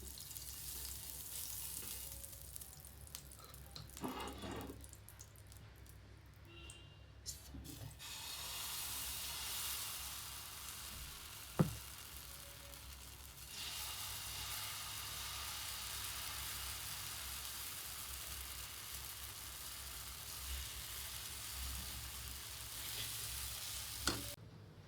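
Dosa batter sizzling in oil on a hot iron tawa griddle, a steady frying hiss that swells and settles, with a few faint clinks of a utensil and no talk.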